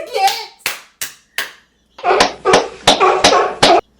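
A handful of sharp, close hand claps ring out, first spaced apart, then a quicker, steadier run of claps mixed with breathy voices.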